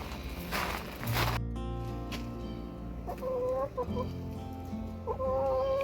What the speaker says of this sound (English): I'm gonna give it to the chickens.